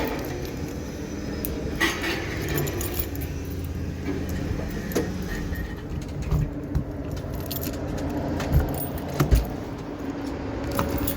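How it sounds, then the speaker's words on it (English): Keys jangle and clink in bursts as someone rummages for them inside a 2015 Keystone Raptor 412RS toy hauler, close-up metallic rattles scattered over a quiet room with no talking. "I just got to find the keys for her."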